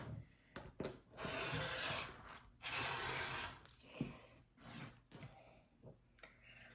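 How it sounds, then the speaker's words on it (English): Rotary cutter slicing along a quilting ruler to square up a fabric edge, heard as several close, raspy swipes of varying length with short pauses between, alone without talk. "what I'm going to do is just trim off this nice and neat"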